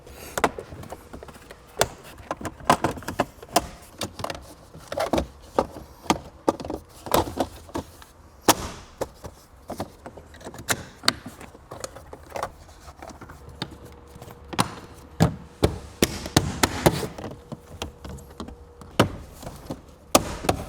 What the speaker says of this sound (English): Pop this panel back in